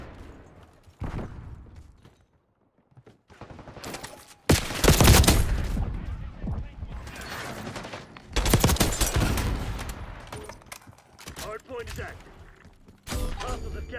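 Gunfire bursts in the video game Black Ops 6, loud close rapid volleys in several clusters with mechanical clanks between them, and brief voice callouts in the gaps.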